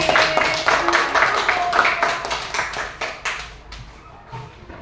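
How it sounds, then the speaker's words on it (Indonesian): A classroom of students claps for a student group, a run of fairly even claps that thins into a few separate, slower claps toward the end. "kita kasih tepuk tangan untuk teman-teman yang kelompok 5"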